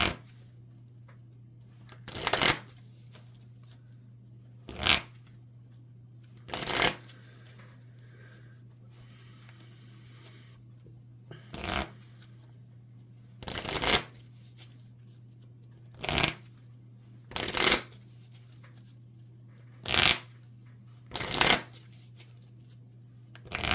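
A deck of cards for the Marvel Champions card game is shuffled in repeated short riffling bursts with pauses between them, close and fairly quiet over a steady low hum.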